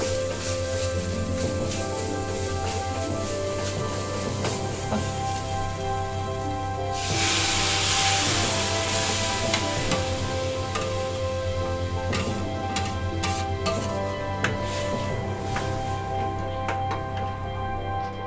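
Crab curry bubbles and sizzles in a pan on a lowered gas flame, a continuous hissing with scattered pops and ticks over a steady low hum, with a louder hiss surge midway.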